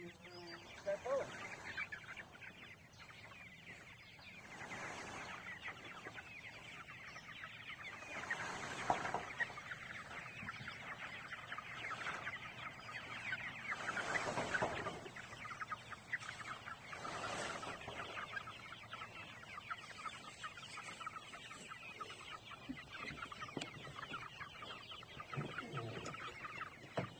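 Chickens cluck softly inside a coop, a continuous low murmur of hens with a few louder bursts, steady throughout with faint background noise.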